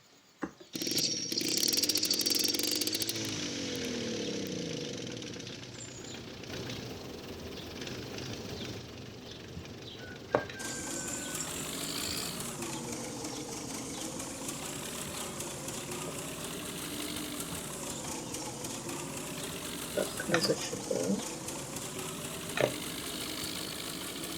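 A vehicle engine in Farming Simulator 17 idles, then pulls away after hauling firewood to a village, settling into a continuous steady drone with a few faint clicks and knocks over it.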